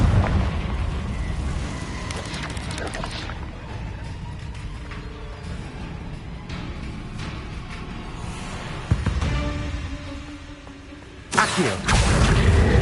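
A blasting spell erupts into an explosion in the video game Hogwarts Legacy, a broad rumbling boom that trails into game ambience, followed by a second sharp burst near the end.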